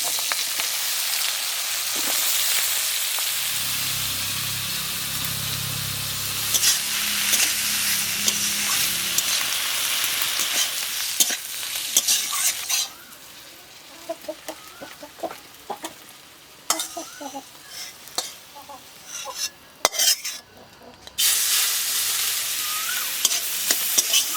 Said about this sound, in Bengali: এবার ওর মধ্যে কেটে রাখা বেগুন আলু আর পেঁয়াজ